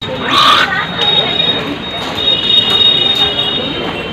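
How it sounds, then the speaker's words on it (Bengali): A train runs slowly on a reverse line after a cracked rail, wheels squealing sharply against the track with faint clicking underneath, heard close on a platform while a person talks over it. "রিভার্স লাইন দিয়ে ধীর গতিতে ট্রেন চালু থাকে।"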